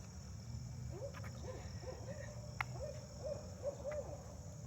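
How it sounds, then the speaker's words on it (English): Owls hoot softly at night outdoors, a few short two-part calls repeating at a distance over a constant bed of chirping crickets and insects, with no talking. "You hear the owls?"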